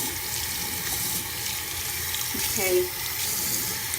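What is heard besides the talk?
water running from a tap into a sink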